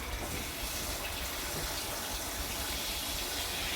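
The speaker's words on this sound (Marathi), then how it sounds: "सगळ्यात अगोदर आपण हे पाण्याने धुवून घेऊया" Steady running water pours continuously from a tap as eggplants are rinsed in a sink, with no voices.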